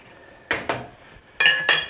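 A spoon knocking and scraping against a pot of simmering food on a stove, four distinct clanking strokes in two pairs, close and fairly loud with no talk.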